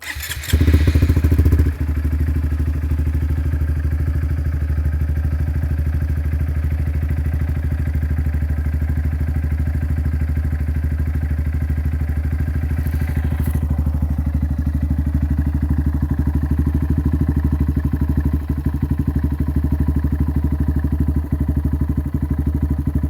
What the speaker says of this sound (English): cold start of my new Yoshimura RS-2 Race Mini Works exhaust here on the 2019 Honda Grom.